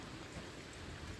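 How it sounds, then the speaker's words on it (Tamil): Monsoon rain falls steadily with wind, a dense, even hiss filling the whole moment without any voices. "நல்லா தெளிவாக இருக்கா மழை"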